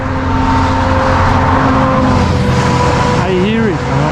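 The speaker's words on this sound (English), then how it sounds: "When you know the mountains, you hear it immediately. The bus." A bus rumbles past on a mountain road at about 2,300 m, with a steady engine drone and a rising, shifting tone near the end, heard from a bicycle amid wind noise.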